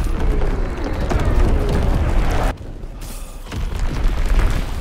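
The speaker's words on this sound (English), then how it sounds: "Dropping Fritz X-Bomb." A Fritz X guided bomb drops and explodes in Call of Duty: WWII on the Valkyrie map, a loud sustained rumbling blast that briefly cuts out, then swells into a second roaring, crackling explosion.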